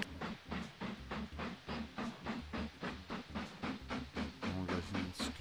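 Game train in Mashinky rolling past, with a rhythmic clickety-clack of wheels over rail joints pulsing steadily under a soft hiss, moderately loud and continuous, no talk.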